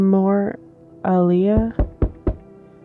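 Three or four sharp, hollow knocks in quick succession in an online game, coming right after two drawn-out vocal sounds.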